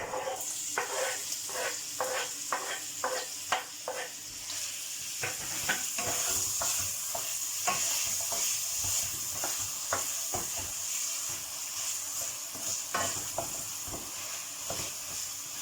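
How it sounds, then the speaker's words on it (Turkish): Meat and onions sauté together in a pan with a continuous sizzle, punctuated by a long run of rhythmic scraping and tapping strokes from a stirring utensil, close and clear. "Etim ve soğanım biraz kavrulsun beraber"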